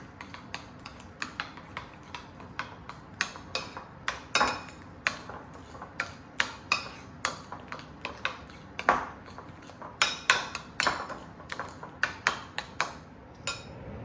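Turmeric being stirred into Persian lubia polo, rice with green beans, a steady run of metallic spoon taps and scrapes against a pot, close and irregularly rhythmic, with no talk.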